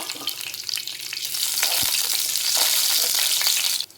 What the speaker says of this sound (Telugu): ఇప్పుడు పొయ్యి మీద పాన్ పెట్టుకొని ఆయిల్ హీట్ అయిన తర్వాత జీలకర్ర ఇలా వేగిన తర్వాత పచ్చిమిరకాయలు యాడ్ చేయాలి